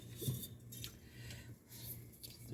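A utensil scrapes and clinks softly against a pot while Knorr buffalo spicy noodles are stirred, a few faint, quiet strokes over a low steady hum.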